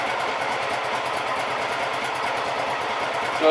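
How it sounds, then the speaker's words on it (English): A Honda PC-800 motorcycle engine idles steadily nearby at about 1100 rpm, still cold after a carburetor balance, a fast even putter that stays constant throughout without revving. "There it is, just idling away at 1100."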